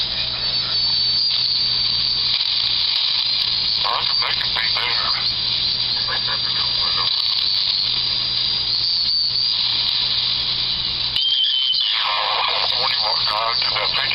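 A homebrew one-tube regenerative radio receiver with handmade coils gives off a constant loud hiss with faint warbling squeals as its antenna trimmer is adjusted, while someone talks over it.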